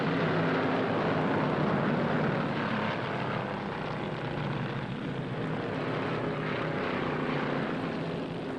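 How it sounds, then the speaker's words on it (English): A 1961 Pontiac race car at the Indianapolis 500 winds up its big engine at full speed, a loud, continuous roar that holds steady with no voices over it. "Roberts in number 22 Pontiac showing the way as he winds up that big engine."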